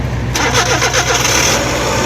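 A Suzuki mini van that is refusing to start cranks loudly up close, its engine churning with a rough, rhythmic starter pulse against a steady low rumble.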